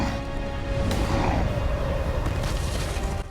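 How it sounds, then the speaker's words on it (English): Fireworks going off in an Avatar: The Last Airbender episode: a dense, sustained rumble of booms and crackling bursts that runs loud and steady throughout, with a sharp burst near the start. "Nice touch setting off the fireworks."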